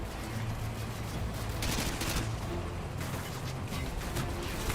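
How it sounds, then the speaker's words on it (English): Grenade blast in Call of Duty: Modern Warfare 2, a loud, close burst of broadband noise amid a dense rattle of gunfire and crashing impacts, with no talking. "Evidently that is a grenade."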